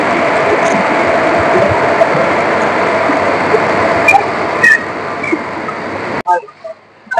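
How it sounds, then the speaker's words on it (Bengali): Tamralipta Express running late, pulling into a station on the Digha–Howrah route: steady loud rumble and rolling clatter for several seconds with brief metallic squeals, then the noise cuts off abruptly. "এবার ট্রেনটা ঢুকছে তাম্রলিপি এক্সপ্রেস"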